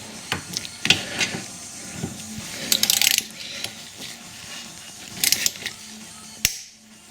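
A wrench ratchets in short bursts while tightening the brake caliper slide pins on an R50 MINI, giving close, sharp clicking runs separated by brief pauses and a few metallic knocks.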